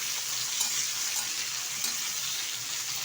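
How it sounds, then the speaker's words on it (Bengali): Eggplant pieces frying in oil in a pan for a yogurt eggplant dish, giving a loud, dense, continuous sizzle that holds steady and close throughout, with no voices. "বেগুনটা কিন্তু ভাজা ভাজা টাইপের হয়ে গেছে"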